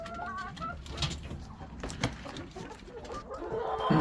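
Jubilee Orpington hens cluck and murmur softly nearby, with short bursts of fowl chatter rising and falling against a quiet outdoor background.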